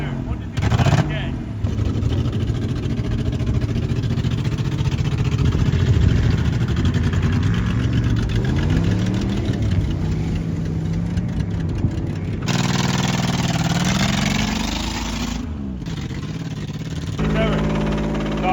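A Toyota pickup truck engine runs rough with a dead cylinder, loud and close. It idles and revs unevenly in a low, shifting drone while people talk over it.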